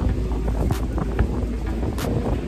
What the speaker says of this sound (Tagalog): pinaglalaroan lang nila yung mga jet ski dito